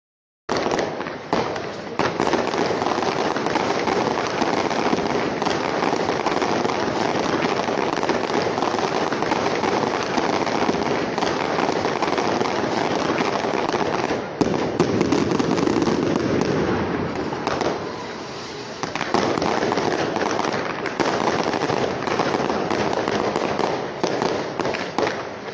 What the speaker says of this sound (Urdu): نئے سال کی خوشی میں کراچی کے مختلف علاقوں میں آتش بازی کی گئی۔